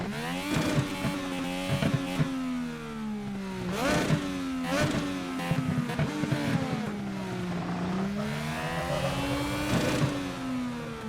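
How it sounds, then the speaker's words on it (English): An IndyCar engine in the iRacing video game revving repeatedly, sharp rising and falling bursts of engine pitch roughly every couple of seconds, heard alone and up close. "So I'm just gonna rev up the car real quick and just give you the raw sound right here."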